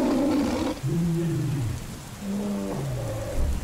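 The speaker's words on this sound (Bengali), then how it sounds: "শেষ শব্দ যেটা শুনলাম সেটা ছিল বাঘের গর্জন" Cartoon tiger roars in a stormy night scene, with two drawn-out growling roars set against a steady hiss of rain.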